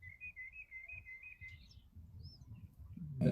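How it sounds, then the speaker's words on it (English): Small birds chirp and whistle outdoors in a short series of bright, repeated notes, fairly faint over low background rumble, with a brief louder bump at the end. "I can hear the birds chirping"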